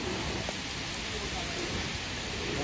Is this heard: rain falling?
yes